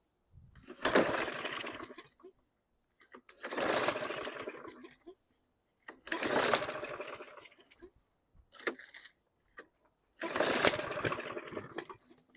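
A 2012 Yard Machines lawn mower engine is pull-started repeatedly. Five bursts of rough cranking and sputtering come with short silent pauses between them, loud and close.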